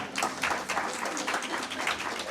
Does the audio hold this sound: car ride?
no